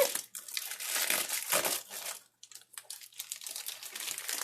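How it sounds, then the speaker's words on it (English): Plastic packaging for a diamond painting kit crinkles and crackles close up while being opened, in irregular bursts with a short pause, fairly quiet and without speech. "So I'm going to open this package. It should be my very first diamond painting. Sorry about the crinkles."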